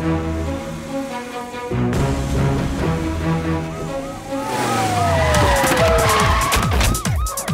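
A car pulls away at speed in an action scene, with engine roar and tire squeals rising over a dramatic music score and a sliding whine toward the end.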